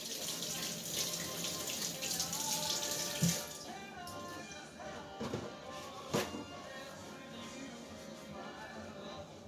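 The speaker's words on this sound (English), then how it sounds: "I'm going to give my hands a rinse" Hands rinsed under a running kitchen tap, a steady splashing rush of water into the sink with a few louder knocks and clatters, while cooking pepper steak with onions and peppers.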